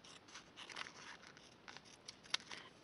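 Scissors snipping through paper to cut a mini pocket letter in two, a few quiet, crisp cuts close by with soft paper rustle in between and one sharper snip near the end, no voices.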